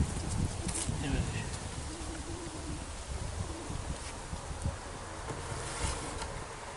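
Wasps buzz around a beehive at an apiary, a dense, steady insect drone that stays fairly close and constant throughout, with no clear speech.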